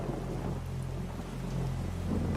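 Rain falling in the Amazon rainforest with a low rumble of thunder, a steady dense patter and deep roll filling the scene, no voices.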